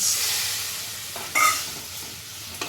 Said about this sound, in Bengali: আমার মশলাটা এবারে কষাবো